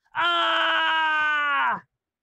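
A single loud, sustained scream lasting about a second and a half, steady and harmonic with a slight drop at the end, standing alone against silence in a horror comic story.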